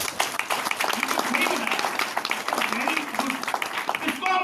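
Seminar audience applause, a dense crackle of many hands clapping continuously at moderate loudness, with a voice speaking over the clapping near the end.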